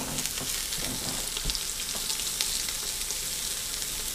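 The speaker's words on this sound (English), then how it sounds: "Nothing deglazes better than a wooden spatula." Pork chops sizzle in a hot pan in a steady broadband frying hiss while a wooden spatula deglazes the bottom, with faint scrapes and stirring noises scattered through it and no voices.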